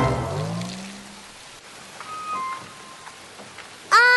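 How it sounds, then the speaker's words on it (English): Steady rain patters in an animated children's cartoon, a soft continuous hiss that runs under brief musical tones and ends in a bright burst of music. "Go away, rain, said Cow"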